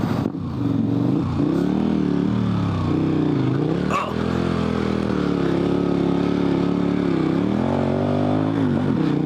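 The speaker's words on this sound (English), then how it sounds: "my goal here is going to be to lay throttle down and basically do a U-turn here" A dual sport motorcycle on Heidenau K60 Scout 50/50 adventure tires accelerates hard through a U-turn, its engine holding a loud, steady drone with pitch rising and falling as the throttle opens. It stays close and runs throughout without talk.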